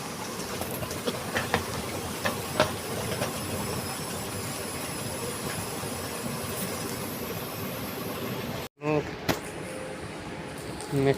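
A driverless Doha metro train in Qatar runs with a steady, loud rumble and rail clatter, briefly cutting out near the end before resuming; a voice talks over it.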